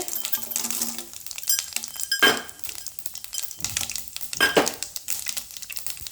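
Mustard seeds, cumin and chana dal dropped into hot oil for a tempering, giving a close sizzle with spoon stirring and clinks of a metal pan, swelling in a few louder bursts.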